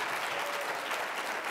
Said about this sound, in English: Can we get a little applause for that?